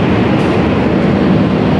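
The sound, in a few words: economy class train carriage riding, KA Cikuray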